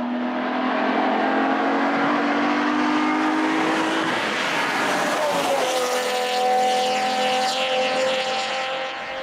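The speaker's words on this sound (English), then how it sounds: "from the rear of the car, it's got this really raspy exhaust sound" Alfa Romeo GTV6 with the 3.0 Busso V6 gives a loud, continuous raspy exhaust note that rises and falls in pitch with revs, sustained throughout with no talk.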